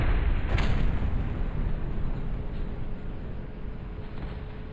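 Heavy tank cannon fire in War Thunder, one sharp boom near the start followed by a sustained low rumble and continuous battle noise, loud and close with no talking.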